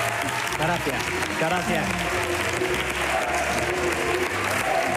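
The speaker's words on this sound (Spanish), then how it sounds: "la gente te aplaude" A television studio audience claps loudly and steadily throughout, with someone speaking briefly over the applause.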